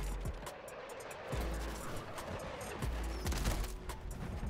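Shotgun fire in the video game Call of Duty: Modern Warfare III, several sharp booming blasts at irregular intervals over steady game background noise.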